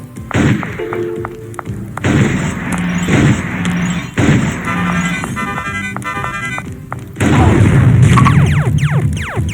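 Video game bombs going off during a playtest: a series of booming thuds and crashes spread across several seconds, ending in a louder, sustained blast, with game sound effects layered between.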